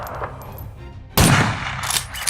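A video game shotgun built from layered punch, body and mechanical sounds: quieter mechanical handling, then a sudden loud, full-bodied blast that decays, followed by further rattling action noise.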